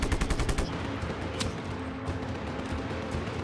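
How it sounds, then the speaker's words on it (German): Video game gunfire aimed at the player, a quick burst of rapid automatic shots at the start, then a single sharp crack amid low background rumble. "Woher wird er auf mich geschossen, frage ich mich gerade."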